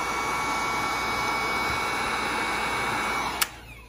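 A heat gun blows with a constant, loud whooshing hum while shrinking heat shrink tubing on an L5-30 power cable, then cuts off abruptly with a click near the end.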